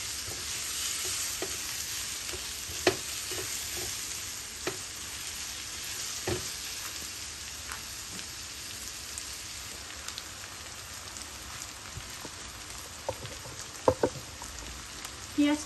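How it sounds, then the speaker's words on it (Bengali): Sliced onions frying gently in a pan with a steady soft sizzle, broken by occasional louder crackles and scrapes of stirring, fairly faint and without talk. "পেঁয়াজটারে কিন্তু আমি লাল করে বাছতাম না, একটু শক্ত হওয়া পর্যন্ত ভাজিনি"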